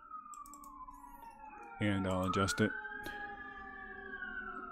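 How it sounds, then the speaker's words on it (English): Emergency vehicle sirens out on a downtown street, a faint wailing tone drifting slowly in the background while someone speaks briefly over a few close clicks. "That sirens are typical for us living downtown."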